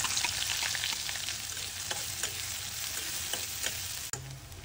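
Chopped onion sizzles steadily in hot oil for fish-roe bhuna, a dense continuous crackle with scattered sharper pops and a soft scrape near the end, no voices.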